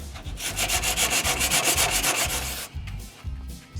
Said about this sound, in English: Let's try some sandpaper on there.